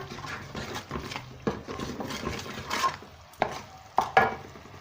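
Dry spices are roasted in a pan for a Sindhi turnip curry, with a spoon stirring and scraping against the pan in irregular bursts and a few sharp metallic knocks over a faint sizzle.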